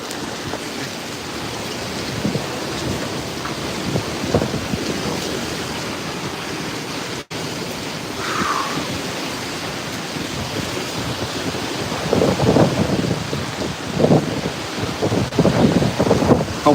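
Hurricane-force wind and rain batter Santa Cruz, Jamaica, a loud roaring rush of gusts with heavy rain and microphone buffeting, surging stronger in bursts toward the end.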